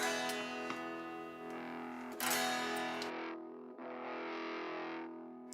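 Electric guitar played through a Soldano 100 amp emulation with heavy distortion, sustained saturated chords ringing out, then a cut to silence and a second distorted chord.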